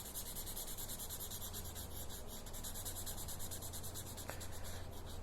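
A marker scrubs steadily over paper while coloring in a circle, producing a continuous close, quiet rubbing scratch with faint rhythmic strokes and no speech.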